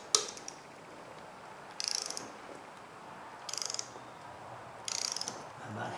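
A torque wrench ratchets on the rear valve cover bolts of a 2001 Buick Park Avenue with the 3.8L engine, set to 50 inch-pounds. Three short bursts of close, rapid metallic clicking with quiet gaps between them.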